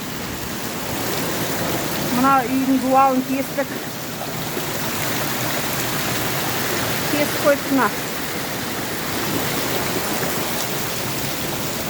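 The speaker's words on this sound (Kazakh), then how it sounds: "Мына жаңбыр бірденен соқты дағы." Heavy rain pours down during a flood in Kentau, a continuous broad roar of water close by, while people talk over it in the middle stretch.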